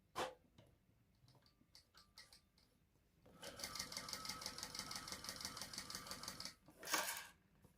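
A home sewing machine bastes zippers into place at a 1/8-inch seam allowance, running in a rapid, steady mechanical whir for several seconds, with a short burst before it and a second burst right after.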